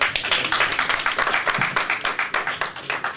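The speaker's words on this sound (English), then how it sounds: "I think that deserves a round of applause." A small audience at a forum on restructuring Nigeria claps steadily for a speaker, a brisk even patter of hands with no cheering and little talk.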